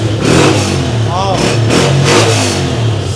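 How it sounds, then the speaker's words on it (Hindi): A Honda 125 motorcycle with self-start fires up and revs, its mid-pitched engine running steadily and loudly throughout with rising and falling throttle blips, while someone speaks briefly over it. "सेल्फ देखें दोस्तों, बाइक का फुल काम किया सेल्फ स्टार्ट ने, होंडा हुआ स्टार्ट, और साउंड तो इसका है ही अच्छा।"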